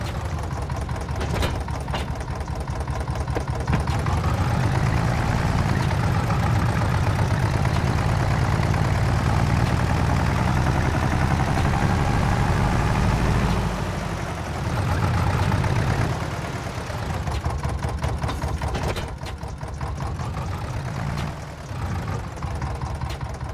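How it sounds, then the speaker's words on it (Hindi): A tractor in the farming game Farming Simulator 25 runs continuously while hitched to a water tank and moving it. The steady, loud, low engine drone swells slightly partway through and eases off near the end. "दैट्स वाई मैंने अपना ट्रैक्टर उठाया और वाटर टैंक से कनेक्ट करने के बाद वाटर टैंक को वहाँ से हटा के साइड में रख दिया"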